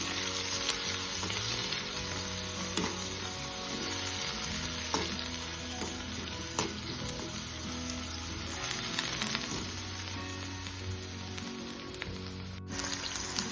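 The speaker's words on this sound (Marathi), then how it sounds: "आणि छान फ्राय करून घ्यायचं" Ingredients for Khandeshi eggplant bharit fry in a pan with a steady, close crackling sizzle and a few soft stirring clicks, continuous throughout without any talk.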